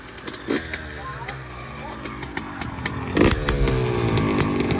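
Two-stroke dirt bike engine running nearby, a steady buzzing idle with brief sharper revs, while people talk over it.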